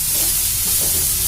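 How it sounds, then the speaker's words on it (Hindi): Sarson ka saag, mustard greens, is stirred in a hot pan, a close, loud, continuous sizzling hiss with soft scraping for a brief moment. "साग चला देते"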